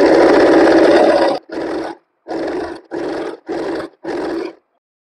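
An electric sewing machine runs stitching the lining of a blouse: one long steady whirring run, then five short bursts separated by brief pauses, close and loud.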